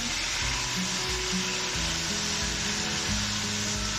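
Chicken sizzling as it fries in a pan, a steady broadband hiss with occasional stirring scrapes underneath, close and continuous with no talking.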